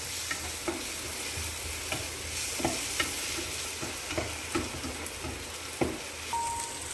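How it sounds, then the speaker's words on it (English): Steady sizzling of homemade ginger garlic paste frying in a hot pan, with regular scraping stirs and occasional spoon clicks, close up. "After frying the ginger garlic for about 2-3 minutes"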